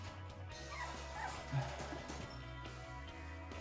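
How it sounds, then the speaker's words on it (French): Three-week-old pedigree Malinois puppies yip and whimper close by, with short high cries scattered across a steady background hum while a person speaks softly to them. "Ah bah oui les petits chiens."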